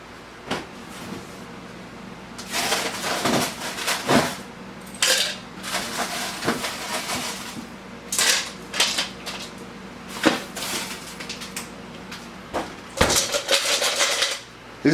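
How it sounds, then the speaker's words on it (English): Ice cubes poured into an empty shaker mixer cup, arriving in clattering bursts of rattling and clinking with brief pauses between scoops, close and fairly loud. "basically you're gonna just take this empty, fill it up with ice"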